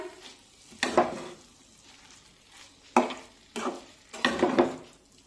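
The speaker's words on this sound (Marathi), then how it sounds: "मिक्स करून घेऊया" Fenugreek leaves being stirred into a pan for methi matar malai curry, with four or five distinct scraping stir strokes over a low, soft sizzle, close and clear without talk.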